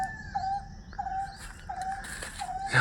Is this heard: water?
no